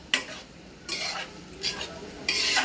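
Boti (tripe) fries in a pan with a faint sizzle, overlaid by four bursts of stirring scrapes spaced about a second apart, close and with no talk.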